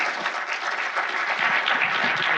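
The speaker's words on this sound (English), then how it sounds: "Please give a round of applause to our great guest." Steady, dense applause from a seated audience at a policy panel on federalism, thanking a guest speaker; continuous, even clapping with no speech, sustained for the full length.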